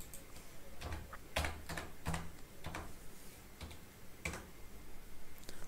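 Individual keystrokes on a computer keyboard tap out a transaction code in SAP accounting software, sparse and irregular clicks sounding quiet and close in a still room.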